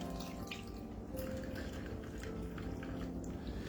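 Liquid is poured over ice into a glass for an apple cider margarita, a soft continuous trickle with faint clinks, close and alone without talk.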